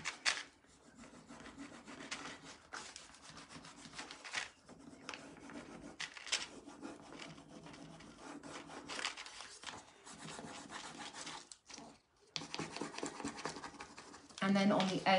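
A piece of top sheet rubbed back and forth against a freshly cut edge, a close, steady scratchy rasping in repeated strokes with short pauses, while a voice speaks over it.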